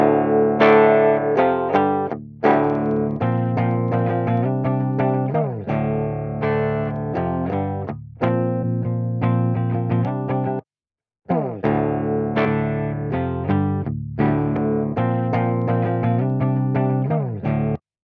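Distorted electric guitar run through a JST Disruptor amp sim plays a chugging riff with choppy palm-muted bursts and short gaps, loud and upfront with no talking.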